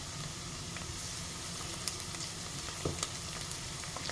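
Garlic and onions sauté together in a pan, the base of a minced-meat filling for stuffed zucchini. A soft, even sizzle holds steady throughout, broken by a few light clicks of stirring.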